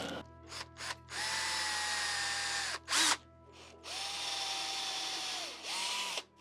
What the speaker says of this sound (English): and drill 3mm holes.